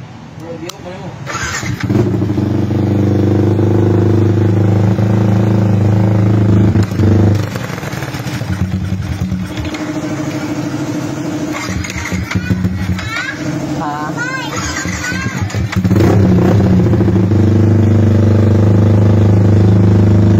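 A Yamaha Sniper 155 motorcycle with an upgraded engine and stock ECU fires up and idles loudly and steadily nearby, its low rumble running throughout under children's voices and chatter.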